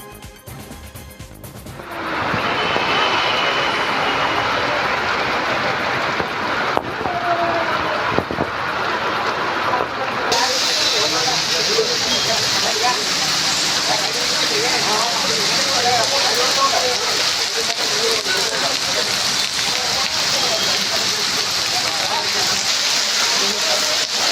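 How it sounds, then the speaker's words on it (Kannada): Heavy rain driven by strong wind roars steadily across a flooded city street, a loud, unbroken wash of noise with a voice speaking over it. "ಬಿರುಗಾಳಿ ಸಹಿತ ಭಾರೀ ಮಳೆಯಾಗಿದ್ದು ನಗರದಲ್ಲಿ ಬಹುತೇಕ ರಸ್ತೆಗಳು ಜಲಾವೃತವಾಗಿ"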